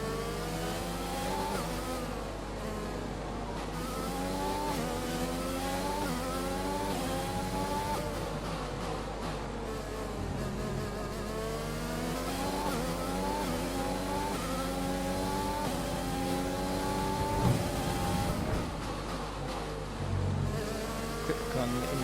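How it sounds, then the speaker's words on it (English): F1 race car engines from the video game F1 2020 whine and rise in pitch over and over as they accelerate, a dense, continuous high-revving drone with several cars overlapping. "Oh, good acceleration from Albon here, just sails by me."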